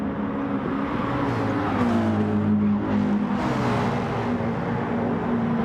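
Group B rally-style race cars accelerating hard in a racing video game, several engines droning and rising in pitch together, loud and continuous with no break.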